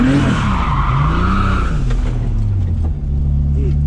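A turbocharged 515 whp M52 BMW E30 squeals its tires hard as the locking differential grabs in a tight street turnaround, a loud wavering screech over engine rumble that fades after two seconds into idle and brief talk.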